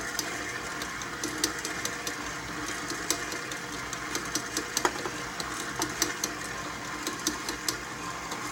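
Electric mixer spinning steadily as chocolate is worked into sour cream chocolate cake batter, a faint continuous motor whir with small repeated clicks and taps on top, no talking.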